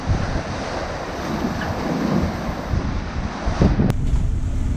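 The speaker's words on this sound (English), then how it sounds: "Full sails, great wind." Strong wind buffets the microphone while waves rush past a Lagoon 50 catamaran under full sail at sea, a loud, continuous roar with no talk.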